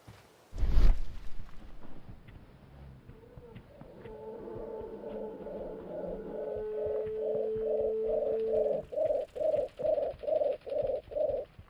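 Pigeons or doves coo in Sherlock Holmes: Crimes & Punishments, starting softly and building into a steady run of rhythmic, throaty coos that grow louder and more evenly pulsed toward the end, over a quiet ambient background.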